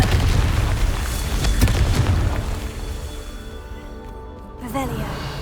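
The Confringo spell explodes in Hogwarts Legacy, giving a heavy, booming blast at the start that rumbles and decays over a few seconds, with a short chime-like game effect near the end.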